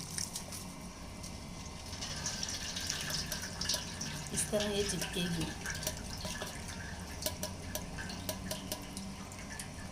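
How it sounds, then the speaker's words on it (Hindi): Cold tap water poured over drained boiled spaghetti in a kitchen, a steady running and splashing stream under someone speaking. "इस पर ठंडा पानी डालकर"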